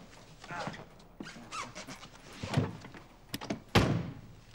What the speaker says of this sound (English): Helps if you open the door.